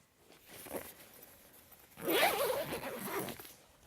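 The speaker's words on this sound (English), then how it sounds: "These zippers, they're YKK, but they're tear zippers. You can just tear them open rather than have to use the zip pull." YKK tear-away zippers on a Carinthia Observer Plus bivvy bag are ripped open, a brief soft rasp followed by a louder, longer zipping tear, close up with no talking.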